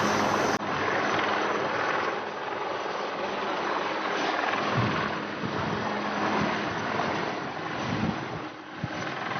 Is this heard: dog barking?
no